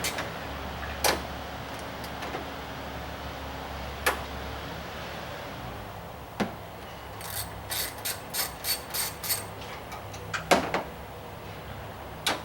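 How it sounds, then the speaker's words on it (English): A ratchet backs out a couple of 10mm screws from a Dodge Ram fender, giving several separate clicks and then a quick close run of ratcheting clicks, nearby and moderately loud against a quiet background. "Then there's a couple of 10mm screws here that need to be removed."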